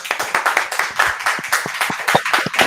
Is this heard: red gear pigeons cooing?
no